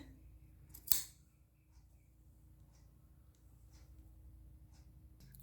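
Scissors cut fabric for the hem of a kurti, giving one crisp, close snip followed by near silence and faint handling noise.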